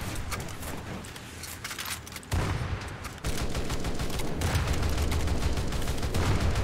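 Naval cannons fire in War Thunder as a dense, continuous barrage of rapid booming shots that grows louder and heavier partway through, with no talking.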